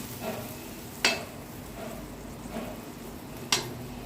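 A spoon stirs jaggery and sugar cooking in a pan, soft scraping strokes at a relaxed rhythm, with two sharper clicks of the utensil against the metal over a low simmering hiss.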